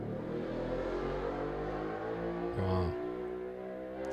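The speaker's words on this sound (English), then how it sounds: "There's my motorcycle tape." A motorcycle engine idling and revving from a tape recording, a steady mechanical drone with harmonic hum throughout and one brief louder rev swell near the end.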